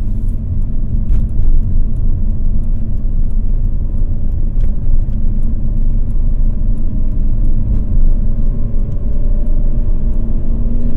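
An Alfa Romeo-style car with a Selespeed automated gearbox drones steadily at close range as it is downshifted manually with rev matching; the engine note stays a continuous, loud rumble without distinct blips.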